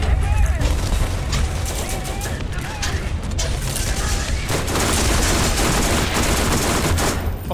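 Rapid automatic gunfire from Borderlands GOTY Enhanced during a fight with Crimson Lance enemies, a loud continuous stream of fast shots with no pauses throughout.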